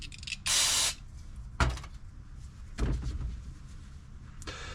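A short, loud hiss of aerosol cleaner sprayed on a carburetor needle of a Honda push mower, lasting about half a second, followed by a couple of clunks and faint handling noises nearby.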